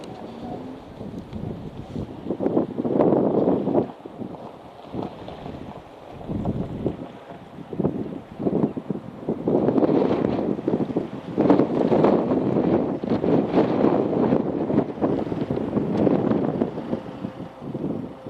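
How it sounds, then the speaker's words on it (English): Strong wind buffets the microphone on the coast at Cullen at sunset, a loud continuous roar of gusts rising and falling throughout with no voices. "Very windy."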